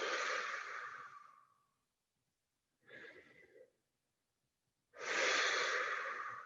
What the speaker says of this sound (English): Let yourself sink and take some big breaths.